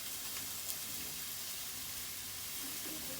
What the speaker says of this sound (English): So now that the oil is heated up, we're going to put in our onions.